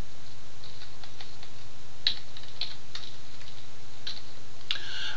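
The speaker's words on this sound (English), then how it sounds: "So just going to type in the heading frequency here." Someone typing a column heading into an Excel 2010 spreadsheet on a computer keyboard, a light, irregular patter of key clicks over a steady low hum, close and clear.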